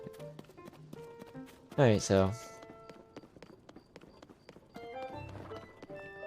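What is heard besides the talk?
horse hooves clip-clopping in Zelda: Tears of the Kingdom video game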